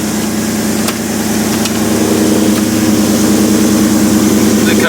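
A Foxbody with a Gen3 engine swap and Magnaflow exhaust idles steadily just after starting, a loud, close, lumpy rumble with a constant low throb.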